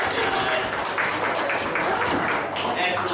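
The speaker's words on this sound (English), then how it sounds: "with a round of applause, let's welcome our improvisers to the stage" A live audience claps and cheers to welcome improvisers onto the stage at an improv comedy show, a dense, steady wash of applause filling the whole stretch with voices mixed in.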